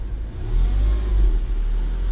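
A 2016 Volkswagen Golf R settles into a steady idle after a keyless start, a deep, low engine hum that swells slightly early on and then holds even, close and alone.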